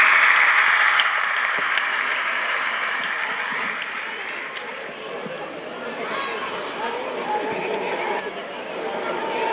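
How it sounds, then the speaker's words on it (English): An outdoor audience at a school sports meet prize giving claps loudly, the applause strongest at first and then easing into steady clapping with crowd chatter underneath. "Parents, please encourage them with a loud clap."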